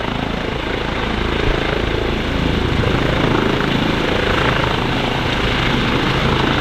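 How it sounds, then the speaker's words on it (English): A helicopter coming in to land at an airport, its loud, close rotor and engine roar steady and continuous throughout, with no talking. "there's a helicopter about to land"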